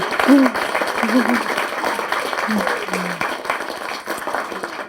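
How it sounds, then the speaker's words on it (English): Wedding guests applauding during a speech, a crowd of hands clapping that comes in loud at once and then thins and fades over several seconds, with a voice talking through it. "for that we will give him another clap, because that is beautiful"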